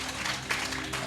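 Brief burst of church congregation clapping, a dense wash of hand claps at moderate level over a faint background hum, lasting about a second.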